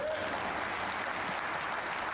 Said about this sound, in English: You can already hear applause from other tables